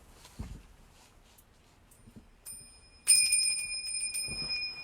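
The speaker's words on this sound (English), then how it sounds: "Maybe I'll invite the bell to sound." A bright bell rings out clearly partway through and its tone lingers, sustained and resonant, after a few soft knocks and rustles in a quiet room.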